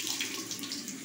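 A tap runs briefly with warm water splashing into a sink as a face is wetted before a shave, a close, steady wash of sound.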